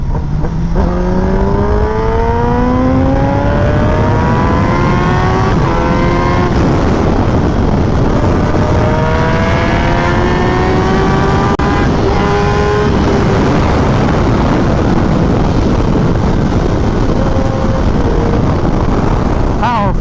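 A Kawasaki ZX-10R motorcycle fitted with an SC Project exhaust accelerates loudly and close by, its engine note climbing in pitch through several successive pulls before easing off.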